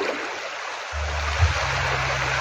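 Flood water flowing toward Pulahongon and Buyog: a steady broad rushing roar of moving water, close and loud, with a low rumble joining partway through, and no voices.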